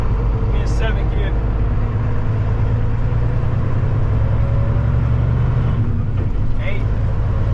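An old Volvo 10-speed truck drives along with a loud, steady low engine drone that holds throughout, its tone shifting slightly as gears change, while someone talks over it.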